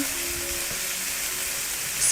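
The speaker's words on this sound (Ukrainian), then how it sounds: "Продовжуємо смажити весь час помішуючи." Noodles fry in a pan with continuous close sizzling and faint scraping from steady stirring, heard alone without speech.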